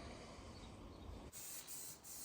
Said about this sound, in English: I'm going to get this sanded down and get some paint on it.